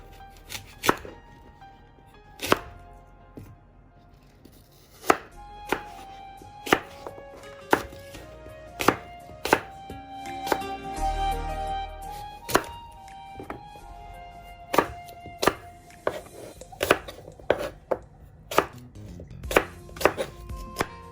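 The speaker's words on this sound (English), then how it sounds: "Cut the apple and make dices." Apples being diced with a knife on a cutting board for pickle, sharp distinct chops landing at an irregular pace, close and loud over a quiet background.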